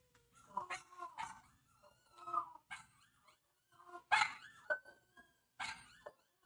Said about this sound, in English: I'm sorry to do this over dogs barking.